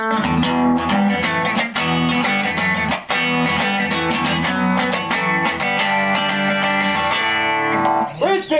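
Electric guitar on the bridge pickup plays through a vintage Rickenbacker TR14 amp with bass at 8, mid at 2, treble at 6 and reverb and distortion off. Strummed chords and notes ring out continuously and close up, with no talk.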